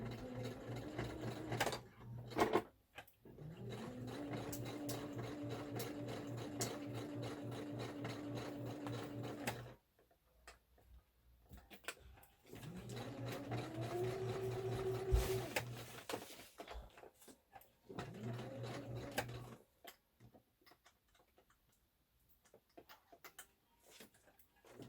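A sewing machine stitches a toy bear in long steady runs of rapid mechanical whirring, broken by short pauses, close and fairly loud with no voices.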